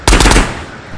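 An SKS rifle in the VR game Ghosts of Tabor fires a loud, rapid burst of several close shots that echoes briefly and fades.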